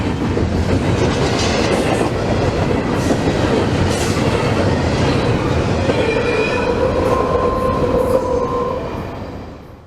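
A CSX freight train rumbles past at close range on the Mohawk Subdivision, with steady wheel clatter and faint metallic squeals before the noise fades away at the end.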